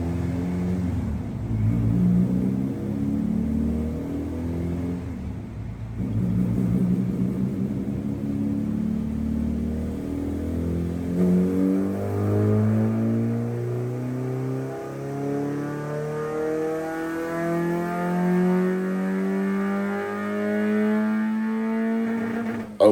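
A stock Honda D16 engine in a car on a dyno run, revving steadily higher through the gears for over twenty seconds, loud and close, with a brief lift around the shift.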